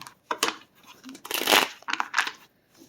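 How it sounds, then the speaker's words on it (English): Tarot and oracle cards being shuffled by hand, a few close, crisp bursts of riffling and sliding card stock with brief pauses between, no talking. "I'm going to do one more shuffle, and I'll take a couple oracle cards as well"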